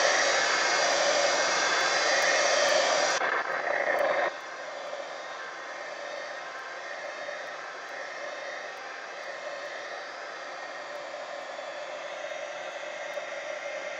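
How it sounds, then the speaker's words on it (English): Heat gun blowing hot air across a mixed-media art journal page, a steady loud hiss that drops to a lower, softer level after a few seconds and continues evenly to the end. "Heat gun."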